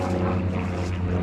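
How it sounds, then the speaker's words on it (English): A private propeller plane drones steadily overhead near a lake in Londonderry, a constant low engine hum with strong tonal harmonics filling the short clip. "Private plane."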